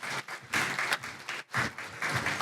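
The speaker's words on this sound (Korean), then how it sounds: "오늘 데모 준비하시고 또 답변해 주신 우리 에티포스 구성원들께 큰 박수" Audience applause at a 5G-V2X technology showcase event, steady clapping from a crowd of moderate size, continuous with slight swells and dips, heard alone at medium distance.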